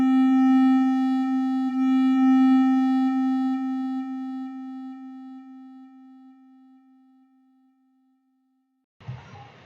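A single sustained sine-wave synth note in FL Studio rings out alone and slowly decays as its delay tail fades toward silence, followed by a brief, louder burst of sound at the very end.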